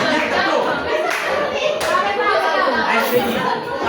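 Students in a classroom clap together in a lively burst during an icebreaker game, with children's chatter and voices mixed throughout the dense, continuous sound.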